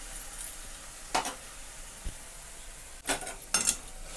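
Tomatoes and green chili fry in oil in a pan, a steady soft sizzle running throughout with a few sharp utensil scrapes and clinks against the pan.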